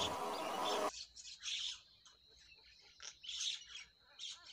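Myna bird calling in repeated bursts of shrill squawks and chirps, fairly close and alone, after a brief noisy start.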